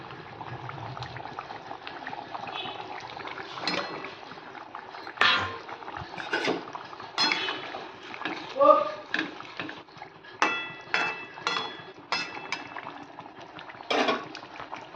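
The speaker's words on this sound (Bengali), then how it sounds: "এবার আমি মাছগুলো দিয়ে দেবো।" Fish being added to a boiling pot of curry, a low bubbling simmer punctuated by repeated wet plops and utensil clinks, close and moderate, with occasional talk in between.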